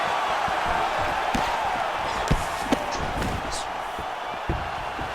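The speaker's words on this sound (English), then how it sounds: "you hear the crowd react every time they come together because they understand the power that these guys are striking with" A virtual arena crowd in the UFC 4 fighting game roars continuously, with sharp thuds of strikes landing and swelling reactions rising over the steady din. A voice talks faintly underneath.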